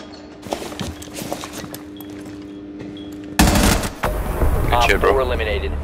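In a PC shooter game, scattered single shots and footsteps give way to a sudden loud burst of rapid automatic gunfire that continues in heavy, dense volleys, with game voices in the background.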